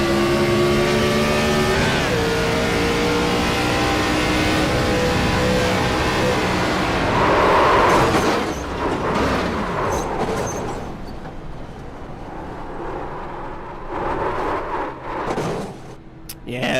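A race car engine roars at high revs on throttle through a corner, holding steady with harmonic whine, then shifting and fading amid crowd noise and talk.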